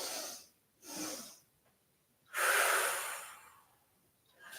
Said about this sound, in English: Try breathing in two breaths without any exhale in between.